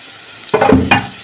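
Spice paste of turmeric, chili and coriander powder mixed in a little water, hitting hot oil in two quick bursts of sizzle and sputter against a low background hiss.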